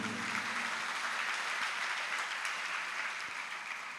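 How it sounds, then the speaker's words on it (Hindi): Sustained, dense applause from an audience at a religious scripture-study discourse in Jabalpur, steady throughout and fairly soft, with no speech over it. "उनका स्मरण करते ही तालियां बजती हैं"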